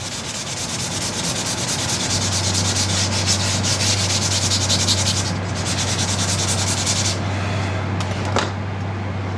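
Steady, continuous sanding rubs along a wooden bow limb of a hand-made Ishi-style bow, close and loud, with a constant low hum underneath and a brief pause near the end.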